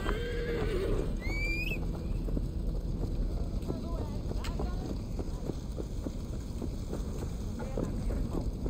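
A horse in the video game Assassin's Creed Valhalla neighs near the start, then its hooves clip-clop in a steady running rhythm under background game noise.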